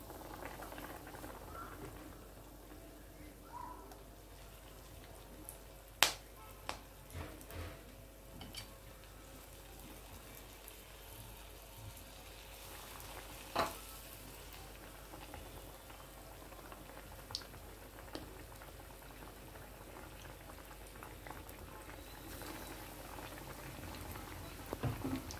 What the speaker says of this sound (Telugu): వీటిని ఒకసారి మళ్ళీ వేయించుకుందాం